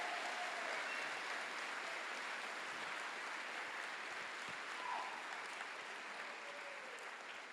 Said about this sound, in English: can you just give them another round of applause?